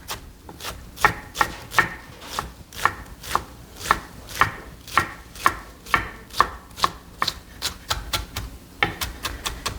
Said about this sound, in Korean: 그대로 붙여놓은 상태에서 이쪽에 칼끔만 넣고 아래쪽으로 칼끔 이렇게 넣어주고 그 다음 다집니다.